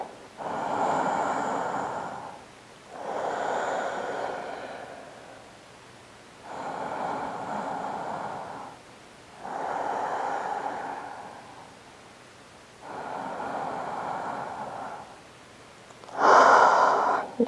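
Slow, deep breaths taken while holding a yoga heart-opening pose: about six unhurried inhale-and-exhale cycles, close and clear with quiet pauses between them and no talking.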